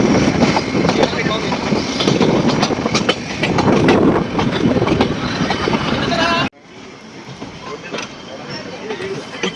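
Ooty toy train on the Nilgiri mountain line between Ketti and Coonoor, its carriages rattling loudly with steady clickety-clack on the rails, then dropping to a quieter rumble for the last few seconds.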